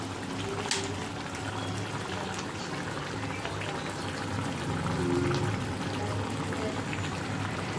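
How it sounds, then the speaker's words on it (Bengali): Raw mustard oil pours into a simmering fish head curry, a soft continuous trickle over the low bubbling of the pot. "আর একটু কাঁচা সরষের তেল দেবো"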